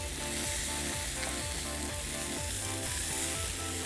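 T-bone steak sizzling and frying in a pan outdoors on a riverbank, a steady dense crackle of fat spitting loudly and continuously with no talk over it.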